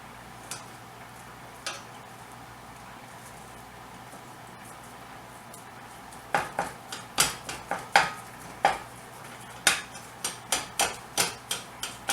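Hamburger meat being broken apart in a pan, heard as a series of sharp utensil taps and scrapes against the metal, sparse at first and then quick and repeated, close by over a quiet background.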